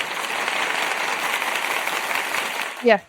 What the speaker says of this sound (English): I got some claps in this thing here